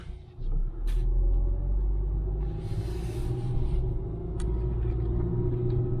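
A 2006 Ford Fusion drives around a residential neighborhood, with a steady low engine rumble and road noise from inside the cabin, loud and continuous and with no voices.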